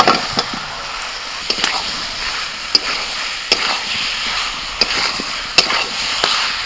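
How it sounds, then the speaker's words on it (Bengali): Fried potatoes are stirred into a sizzling spice masala of turmeric and coriander powder, a constant close frying hiss broken by sharp spatula scrapes and clacks at irregular intervals, with no talk. "এবার এর মধ্যে ভাজা আলু দিয়ে দেবো।"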